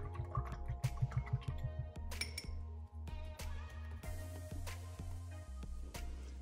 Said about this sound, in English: let's wash that brush off